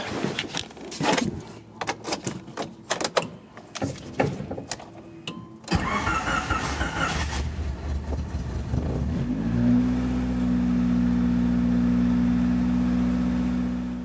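A Honda CRX on coilovers begins with a few clicks and key jingles, then cranks and fires up. The engine revs and settles into a steady, close idle, with no talking.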